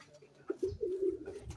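Pigeon cooing close by: a lakha pigeon paired with a teddy female, giving a low, throaty, rolling coo that swells and repeats through the moment, with no talk over it.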